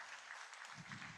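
Applause from a crowd, a steady wash of many hands clapping at a moderate distance, quite faint overall.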